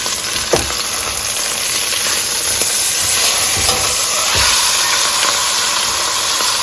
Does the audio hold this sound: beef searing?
yes